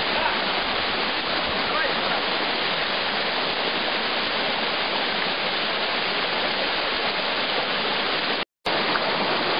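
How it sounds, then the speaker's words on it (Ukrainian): Narinets waterfall in Ukraine, a loud steady rushing roar of falling water that fills the whole clip, close and unbroken apart from a brief cut near the end. "Перед вами водоспад Нарінець."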